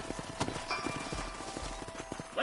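Hooves clip-clop in an uneven walking rhythm, close and distinct, with a few sharp knocks scattered among the steps, from horses in the video game Red Dead Redemption.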